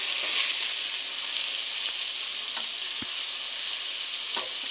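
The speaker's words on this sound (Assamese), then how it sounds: "সৰু মাছৰ লগত শাক ভাজিছো মই" Small fish and leafy greens fry in a pan with a steady, close sizzle and faint stirring scrapes, heard alone without voices.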